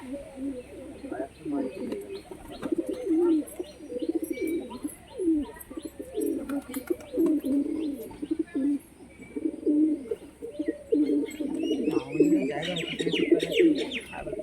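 Pigeons coo close by in a steady, rolling chorus of low throaty calls that runs throughout, with a few chirps and someone talking over them.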